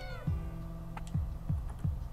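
A pet cat named Borscht lets out one short, bright meow, followed by several soft, dull thumps spaced out in the quiet room.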